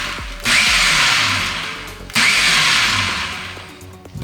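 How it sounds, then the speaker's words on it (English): A Ninja Detect Kitchen System blender pulses muffin batter in two loud bursts of motor whir, each starting abruptly and slowly winding down, with no talking. "we want to pulse this a few times just to get this combined really well"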